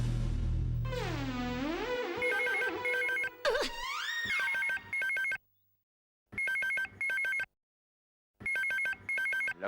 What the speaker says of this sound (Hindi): लगता है खबरी का फोन है